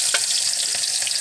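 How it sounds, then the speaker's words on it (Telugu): Chopped onions frying in a pan with cumin for a moong dal dish, a steady, dense sizzle running close and continuous throughout with no voices. "ఉల్లిగడ్డలు వేసిన తర్వాత కొంచెం ఉల్లిగడ్డలు వేగాలి."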